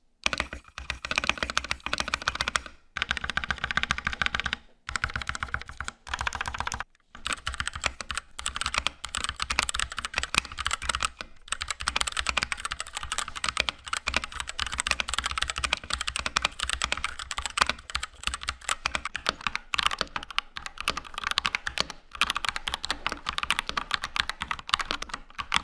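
Continuous typing on a stock XTRFY K5 65% mechanical keyboard with two layers of factory dampening foam, a dense, steady run of close keystrokes with a few brief pauses, no voices.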